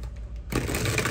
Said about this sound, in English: One more shuffle and we will get into it.